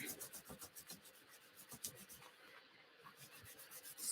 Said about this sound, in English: scrubbing it up with my board eraser